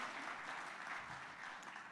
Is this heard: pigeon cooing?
no